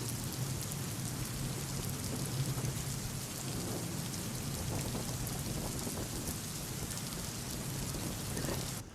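Heavy monsoon rain pours down steadily in Kolhapur, a dense continuous hiss of drops striking surfaces with a low rumble beneath, unbroken for the whole stretch.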